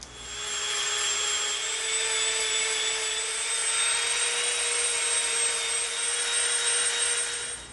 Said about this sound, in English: Now we're going to Dremel from the bottom here to this inside line